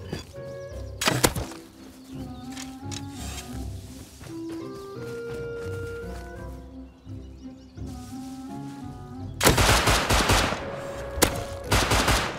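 Gunfire in the survival game Rust: a sharp loud burst early, scattered thumps and tonal clanks in between, then a heavy rapid volley near the end, all close and punchy with no talking.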